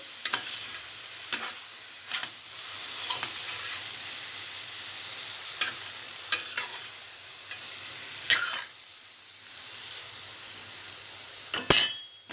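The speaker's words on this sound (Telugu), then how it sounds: "మంచిగా స్టీర్ ఫ్రై చేసుకొని" Tomatoes stir-fried in a pan for bottle gourd sambar give a soft, steady sizzle, broken by occasional sharp utensil scrapes and clinks against the pan, with a louder clatter near the end.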